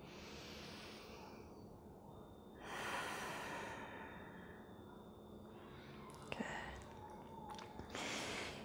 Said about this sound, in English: Final 2 breaths here.